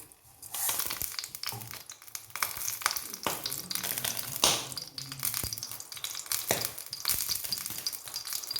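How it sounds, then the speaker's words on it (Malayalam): Mustard seeds spluttering in hot oil in a pan before onions go in, a close sizzle broken by sharp pops and crackles at irregular intervals, with no voices. "കടുക് പൊട്ടി വരുന്നുണ്ട്"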